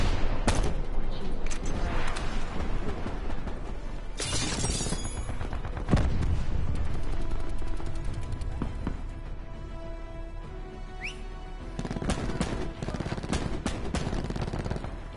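Sustained SMG fire in a shooter game, rapid automatic bursts and scattered shots stacking into a loud continuous barrage with a few heavier booms, close and dense throughout.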